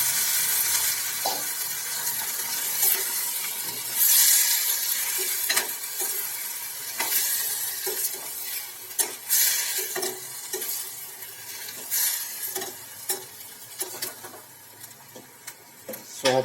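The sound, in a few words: stirring and sizzling sprouted chickpeas and pigeon peas in pan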